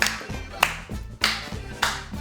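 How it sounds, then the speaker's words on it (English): Hand claps during a dance class, a handful of sharp, evenly spaced claps played over rhythmic music. "Clap if you want to."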